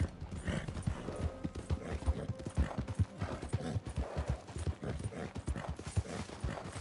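Hooves clip-clop steadily as a horse gallops in the Red Dead Redemption 2 video game, a continuous close rhythmic pounding over a busy background with no talking.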